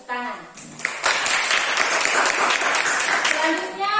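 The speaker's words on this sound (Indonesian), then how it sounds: "Kita beri tepuk tangan." A classroom audience claps together after a student group finishes its presentation, a dense, steady burst of applause lasting a few seconds, with voices heard briefly before and after.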